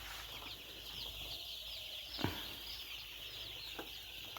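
Broiler and coloured chicks in a winter brooding shed cheep in quick, overlapping peeps over a low background hum, with a couple of louder calls standing out partway through.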